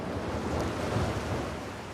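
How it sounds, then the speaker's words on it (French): Wind rises over open sea in a wild, remote setting, a steady loud rush mixed with surf that holds its strength throughout and eases only slightly at the end, with no voices. "Le vent s'est levé."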